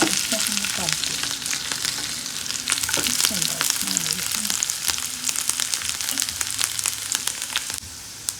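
Frying in hot ghee while preparing sheer khurma vermicelli pudding: a steady, close sizzle runs throughout, broken by sharp clicks and scrapes of stirring.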